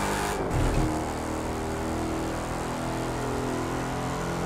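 A Dodge Demon Hellcat engine drones in The Crew 2 racing game, a steady loud rumble with a brief rev or tire noise near the start, no talking.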